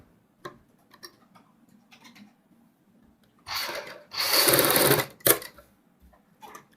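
A sewing machine makes a short burst of stitching as a fabric patch for a kurti's front neck is sewn, with brief mechanical whirring between quiet handling sounds.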